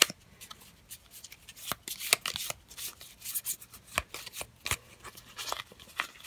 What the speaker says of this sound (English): let's get these attack modifiers shuffled